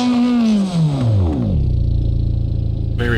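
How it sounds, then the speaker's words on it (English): Car engine in BeamNG.drive revs hard, pitch sweeping downward then settling into a loud, rough idle drone before a sharp burst of revving near the end, with no talking. "I'm going to show you just how loud this car is."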